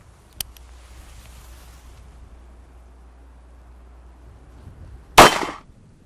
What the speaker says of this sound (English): We're going to fire it into some ribs,